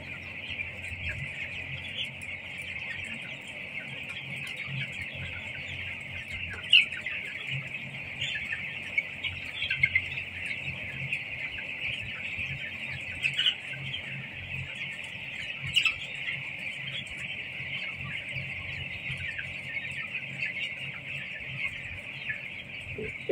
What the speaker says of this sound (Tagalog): Healthy yung mga manok